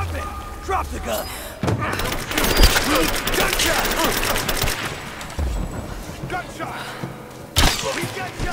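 Gunfire in the video game Rise of the Tomb Raider: a dense burst of sharp cracks and thuds packed through the middle stretch, with scattered impacts around it and a loud hit near the end, mixed with game speech.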